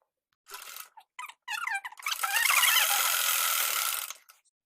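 A sewing machine stitches a folded strip onto a blouse collar, giving short start-stop bursts before a sustained, fairly loud whirring run of about two seconds that then stops, with no talking.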